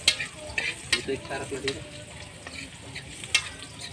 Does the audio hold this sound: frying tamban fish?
yes